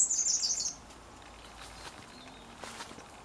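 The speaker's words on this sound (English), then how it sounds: "The birds are singing because the mornings are much darker." Birds singing on a dark autumn morning along a woodland path in Ireland: a burst of high chirping and tweets in the first moments, then fading to faint quiet ambience with soft footsteps-like rustles.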